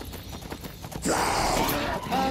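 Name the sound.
horse hooves clip-clopping in Skyrim video game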